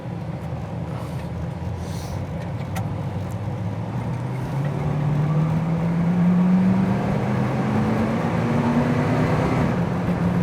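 A 1967 Ford Fairlane drives along, its engine a steady low hum that climbs in pitch, then drops as it shifts into second gear and settles into a fuller, louder drone under road noise.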